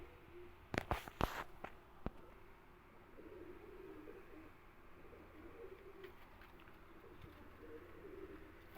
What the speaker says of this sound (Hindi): ये दो जोड़े हैं टैडी फॉर सेल